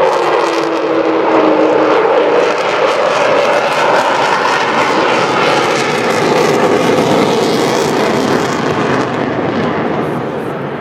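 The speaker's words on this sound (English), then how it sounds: "he's flying the Vulcan today as we watch" Avro Vulcan XH558 jet bomber flying a display at the Bournemouth Air Show, a loud continuous jet roar that swells and shifts in pitch as the aircraft banks and climbs, filling the whole stretch with no talk over it.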